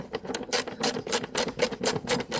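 A ratchet with a deep 10mm socket clicks rapidly while tightening a bolt on a misfiring car engine, loud and close in an even repeated rhythm.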